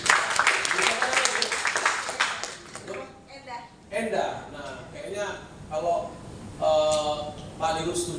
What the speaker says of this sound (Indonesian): Tepuk tangan dulu tuh Ibu